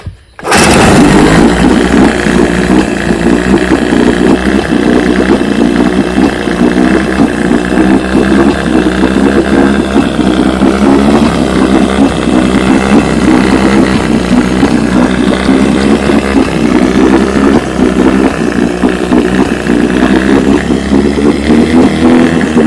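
A restored 1966 Evinrude 9.5 HP outboard motor runs steadily in a test barrel, a loud, continuous close-up engine drone with choppy exhaust pulses that holds for over twenty seconds without talk.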